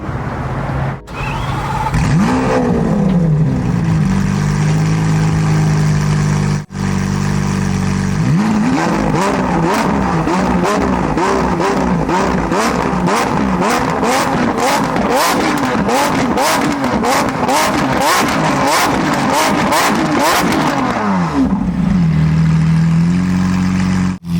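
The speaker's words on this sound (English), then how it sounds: "So let's go, I'll start it up." A roadster that shoots flames from its exhaust cranks and starts, then idles loudly. A long series of sharp, rapid revs with crackling bursts follows before the engine settles back to a rough idle, all heard close up.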